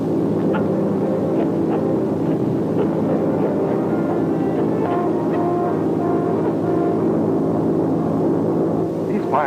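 A propeller airplane flies high overhead in a 1952 adventure serial, a steady droning hum with layered tones that holds evenly throughout at moderate loudness.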